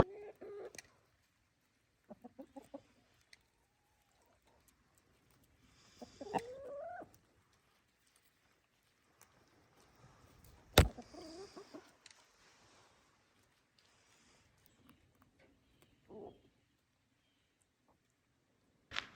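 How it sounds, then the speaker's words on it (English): Chickens cluck and squawk in scattered, uneasy bursts with long quiet gaps between, one sudden loud squawk standing out, no talking, on a farm after a predator attack. "our chickens are making some very weird sounds we've never heard"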